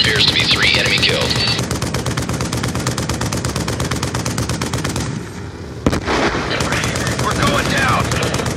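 Rapid, sustained gunfire from a VTOL warship strike in Call of Duty Black Ops 2 on the Yemen map, a loud, dense mechanical chatter of shots lasting throughout, briefly dipping once before resuming, with game voices mixed in.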